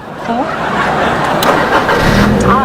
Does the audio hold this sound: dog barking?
no